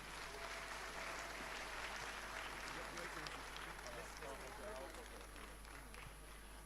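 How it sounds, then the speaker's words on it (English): Crowd applause at a Bank of Ghana ceremony for the Ghana cedi's 60th anniversary as the Governor and his deputies arrive, a sustained wash of clapping heard faintly at a distance with a low hum under it. "A round of applause for them as they come."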